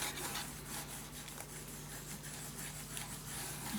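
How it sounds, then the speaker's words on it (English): Burnishing paper down on a scrapbook mini album: a continuous soft rubbing and scraping texture, close and quiet, steady throughout with no pauses. "I actually need to open this up, because here I am at the bottom, so I can burnish this down better."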